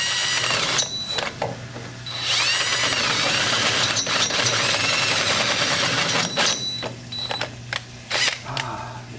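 Power drill boring through a metal brake part on a Toyota Tacoma during a Brembo brake install, whining loudly in long sustained passes broken by short pauses and bursts, with no talking.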